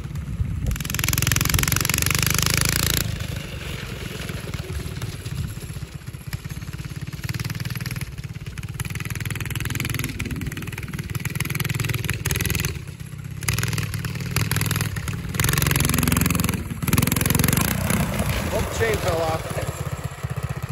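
A rat rod style go-kart engine runs loud and close, a buzzing, clattering drone that rises and falls with bursts of revving throughout, while voices are heard over it.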